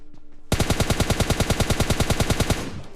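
Automatic gunfire in PUBG Mobile (PUBG Lite), a loud, rapid burst of about two dozen evenly spaced shots lasting two seconds after a brief quiet lead-in, close and without talk.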